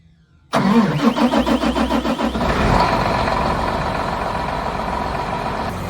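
A farm tractor engine cold-starts before a day of wheat planting. A sudden crank catches into a loud, rough chugging that settles into a steady close idle, with no talking.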